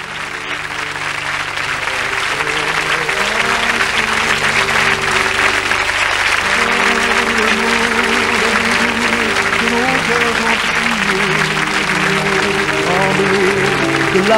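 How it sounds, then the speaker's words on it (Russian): An audience applauding in memory of actress Romy Schneider, sustained dense clapping from a large crowd that swells over the first seconds and then holds steady and loud, with a soft musical tone underneath. "Дамы и господа, я прошу вас почтить аплодисментами память Роми Шнайдера."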